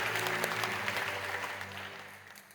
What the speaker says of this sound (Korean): 여러분 그 박수로 환영하시지요.